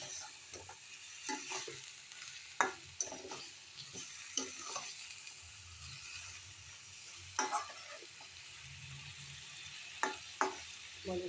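Dalia (broken wheat) is stirred in a pan, faint soft scraping strokes with a gentle sizzle beneath, in short irregular bursts and no talking.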